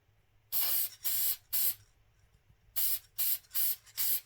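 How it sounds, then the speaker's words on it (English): Seven short bursts of aerosol clear coat hiss onto a spinning coin ring, close and loud, in two groups with a brief quiet gap between them. "I just give it another spray."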